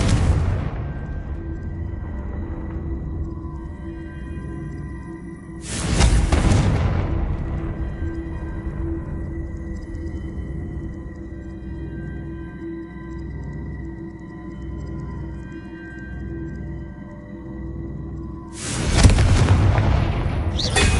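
Confringo spell explosions in the game Hogwarts Legacy: two loud booming blasts about thirteen seconds apart, each with a sharp hit and a rumbling decay, over a low steady ambient hum.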